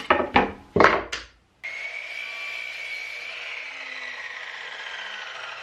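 A 45-degree wooden French cleat is cut: a few sharp knocks and rasps of wood, a short pause, then a steady close sawing whine that carries on evenly to the end.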